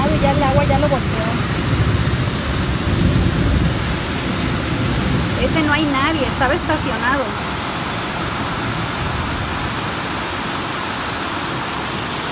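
Violent storm with heavy rain and rushing floodwater sweeping away cars: a loud, steady roar of torrential water and rain throughout, with someone talking over it.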